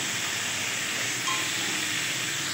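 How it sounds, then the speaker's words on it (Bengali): Washed pointed gourd (potol) frying in a pan in a home kitchen gives a steady, even sizzling hiss that holds unbroken throughout, with no voices. "তো ডালটা নামিয়ে আমি পটলটা বসিয়ে দিয়েছি ভাজতে"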